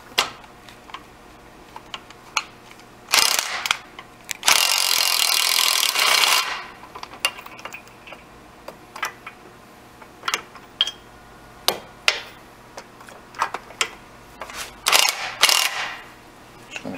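An impact gun removes the nuts on a MerCruiser Alpha One lower unit. A short loud burst is followed by a longer two-second rattling burst, with scattered ratchet and socket clicks in between and another brief burst near the end.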